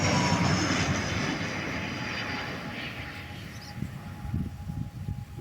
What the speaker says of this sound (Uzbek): Mana samolyot qo'yyapti